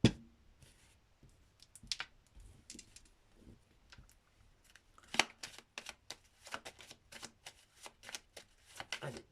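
A 32-card deck being shuffled for a card reading, with soft riffling and sliding at first, then a quicker run of crisp, close card snaps and flicks through the second half.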